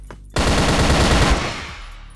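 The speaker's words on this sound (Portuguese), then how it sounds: "Vocês viram quanto tiro tancou" A loud burst of rapid automatic gunfire in the video game CrossFire erupts after a short lull and rattles on continuously, slowly fading toward the end.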